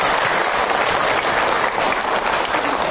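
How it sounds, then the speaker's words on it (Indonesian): An audience at an Islamic religious lecture on Isra Miraj breaks into dense, steady applause, loud and continuous for about three seconds with no voices above it. "Tepuk tangan buat Bunda semua yang ada."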